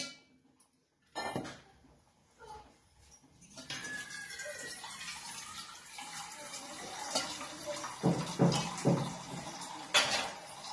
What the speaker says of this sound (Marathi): आणखीन एक थोडं पाणी घालते मी याच्यामध्ये.